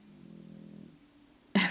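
A person snores once, a low droning buzz lasting under a second, followed by a brief sharp noise nearby.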